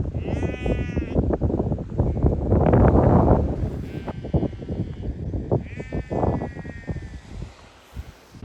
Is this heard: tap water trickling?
no